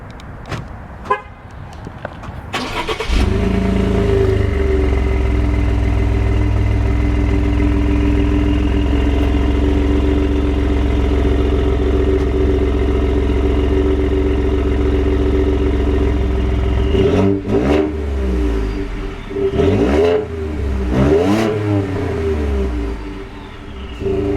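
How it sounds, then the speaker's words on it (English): A 2016 Ford F-150's engine cranks and catches on a cold start, then settles into a loud, steady idle before several sharp revs rise and fall near the end. "since we have an automatic start, it's only right that we get to the cold start"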